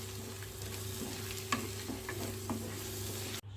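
Spices and jaggery being stirred in a pan, a soft steady sizzle with a few distinct scraping strokes of the spoon, close and fairly quiet, ending abruptly.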